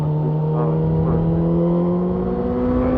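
A 2018 Honda CB1000R motorcycle engine revs and accelerates hard on a winding road, its steady rising whine climbing in pitch over about three seconds, loud and close with continuous wind rumble and no talking.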